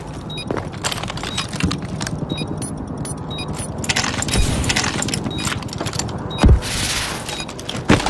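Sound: weapon reloading in a first-person shooter video game

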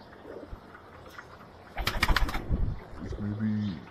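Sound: Saharanpuri pigeons cooing and flapping

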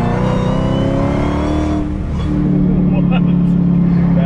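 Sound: 1000 horsepower widebody Dodge Hellcat accelerating at full throttle

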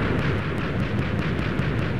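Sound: cannon firing in a video game

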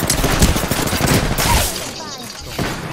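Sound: gunfire in video game Apex Legends

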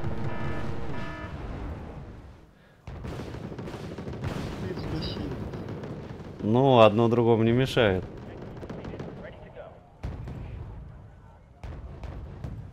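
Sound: cannon fire in the video game Wargame: Red Dragon

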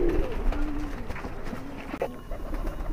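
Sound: pigeon cooing, high flyer kabootar

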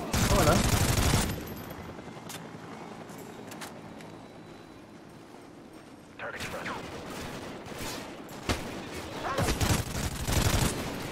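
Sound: gunfire in the video game Call of Duty: Ghosts

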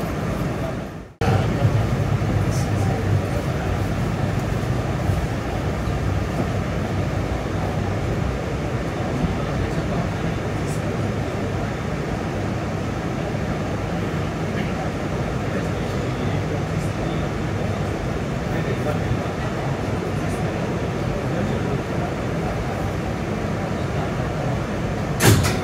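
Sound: Staten Island Railway R211S train running

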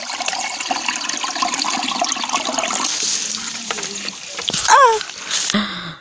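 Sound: flowing water

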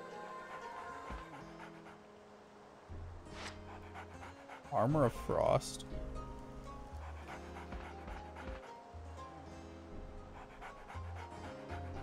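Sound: dog panting in PS2 video game EverGrace

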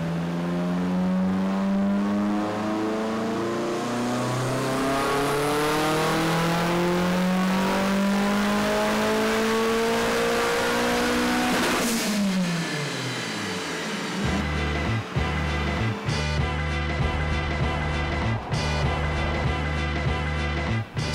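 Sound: tuned drift car engine revving

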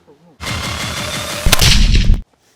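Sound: gunshot from a rifle fitted with a suppressor

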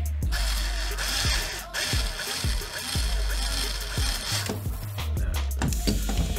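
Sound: tightening bolts on an RC truck with a tool

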